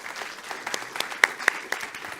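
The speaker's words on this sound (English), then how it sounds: "So please welcome our panel with a round of applause." Brief round of applause from a conference audience welcoming a panel onto the stage, moderate clapping with a few sharp close claps standing out, steady and fading toward the end.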